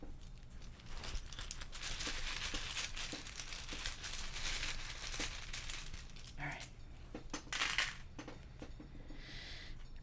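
Tarot reading tiles clatter and click as they are handled and shuffled, a steady stream of small clinks and rattles with a few sharper knocks toward the end, close and fairly soft.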